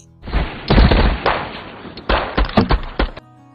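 Film shootout with police: bursts of gunfire crack out in rapid clusters, several sharp loud shots in quick succession with brief gaps between volleys.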